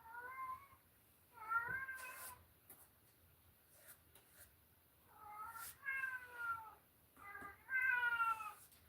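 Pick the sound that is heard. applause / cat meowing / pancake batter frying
cat meowing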